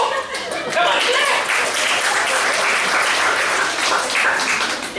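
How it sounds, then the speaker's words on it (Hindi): A church congregation applauds steadily during a sermon, a dense wash of clapping with some voices and chuckling mixed in. "क्लैप और पोजीशन का क्लैप करो। Come on clap."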